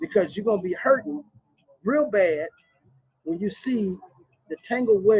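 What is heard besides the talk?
None of the usual background noises is heard.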